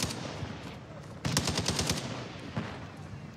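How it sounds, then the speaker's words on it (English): Rapid enemy gunfire in Call of Duty DMZ, a dense stream of automatic shots that pushes louder partway through and continues without pause, close and harsh. "He's shooting at me from up top"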